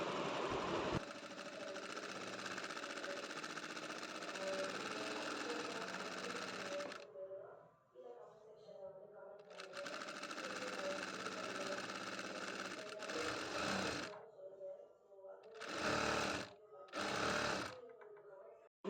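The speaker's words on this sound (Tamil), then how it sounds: "எப்படி ஸ்டிச் பண்ணுறேன்னு பாருங்கள்." A Jack F5 sewing machine with a rolled hem foot stitches fabric in loud, steady runs of whirring motor, pausing between a long opening burst, a second run and a few short final spurts.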